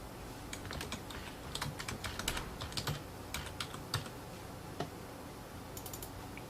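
Quick bursts of typing on a computer keyboard, close and fairly quiet, with irregular clicks and short pauses over a soft room hiss and no voices.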